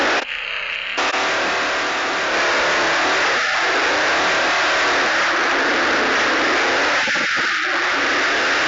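A McLaren car engine in a monster truck video game revs and roars continuously and loudly, with a brief quieter dip at the start before the engine note surges and holds.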